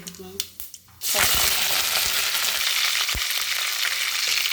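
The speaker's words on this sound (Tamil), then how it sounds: "எண்ணெய் வந்து தாராளமாகவே ஊற்றிக்கோங்க கடுகு போட்டுக்கலாம்" Mustard seeds dropped into generous hot oil burst into a loud, dense sizzle after a second of quiet, crackling steadily and close for the rest of the clip.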